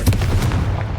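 A fiery Confringo blast spell explodes in the video game Hogwarts Legacy, a loud, sharp boom with a short rumbling tail, heard alone.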